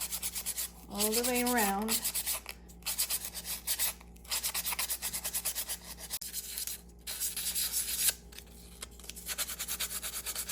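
A 2-inch UV resin keychain disc is sanded by hand, giving repeated raspy rubbing strokes in quick bursts with brief pauses, under a steady background hiss; a voice speaks briefly early on.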